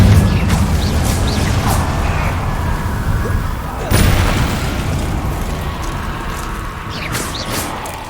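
Incendio fire spells cast in Hogwarts Legacy, a series of loud fiery bursts and booms, with one sharp blast near the middle and others trailing off, all close and forceful.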